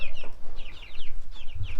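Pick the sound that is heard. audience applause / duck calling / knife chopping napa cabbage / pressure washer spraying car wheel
duck calling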